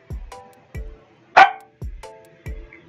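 A Minecraft dog barks in short, clear, repeated yips spaced about half a second apart, loud and close, with one sharper, brighter bark in the middle.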